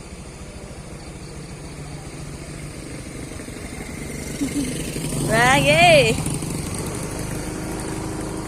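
A motorcycle engine runs on a foggy morning, a steady nearby idle that swells louder for a moment midway, with a person talking over it.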